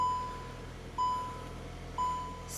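A Cupra Formentor VZ warning chime beeps three times at an even one-second pace, each tone clear and fading quickly in a quiet cabin.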